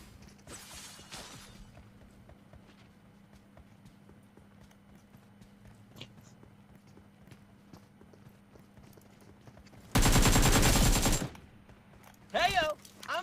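Automatic gunfire in the mobile battle royale game PUBG Mobile: a loud sustained burst of about a second, then a shorter burst, after a stretch of quiet background game sound.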